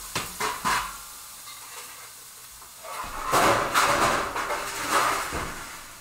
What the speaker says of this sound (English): I'm going to start the sear now